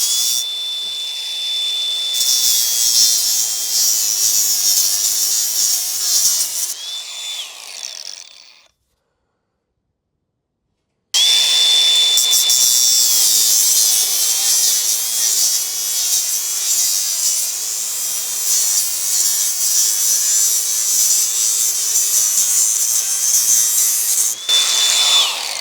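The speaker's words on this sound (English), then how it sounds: "Let me try the grinder out and see how that works." Angle grinder cutting through wood and throwing sparks, a loud, steady high-pitched whine with a grinding rasp that cuts out briefly around the middle and then resumes at full strength.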